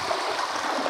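A short, continuous rush of water poured into a clogged pipe, steady and close, with no voices.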